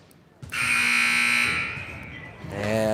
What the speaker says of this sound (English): And buzzer sounded